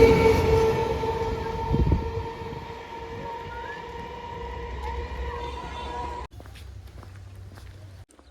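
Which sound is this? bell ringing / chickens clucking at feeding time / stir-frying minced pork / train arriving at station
train arriving at station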